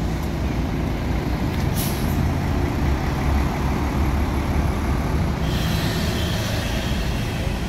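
A Putra Pelangi bus pulls away from a Palembang bus terminal, its engine a loud, steady, close rumble with brief airy hisses partway through.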